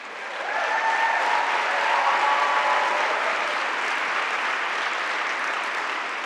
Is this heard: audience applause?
yes